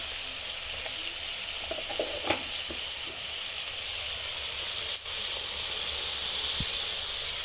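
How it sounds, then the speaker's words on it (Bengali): Spices for a fish curry fry in a pan, a soft continuous sizzle and hiss with a few faint stirring scrapes, fairly quiet throughout. "এখন এটি মিক্স করে নিবে, নেড়ে নেড়ে।"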